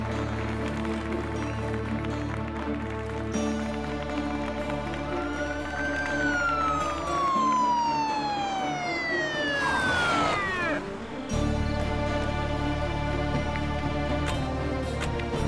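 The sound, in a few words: police car siren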